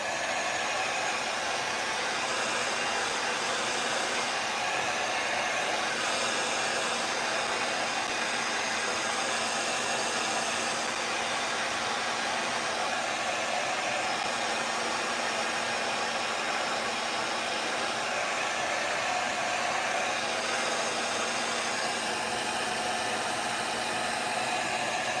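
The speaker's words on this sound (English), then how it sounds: "I'm gonna turn the hairdryer on" Hair dryer running steadily at close range, a constant loud airy whoosh with a faint motor hum underneath, unbroken and with no talking throughout.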